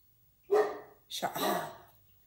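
A dog barks twice outdoors on a windy day, two loud, close, separate barks with a brief pause between them.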